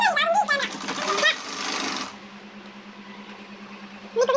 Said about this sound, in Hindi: तो इस तरीके से हमने ऊपर से पूरे में सिलाई हम थोड़ा थोड़ा दबाते हुए मात्र इसमें हम ऊपर से सिलाई लगाएंगे।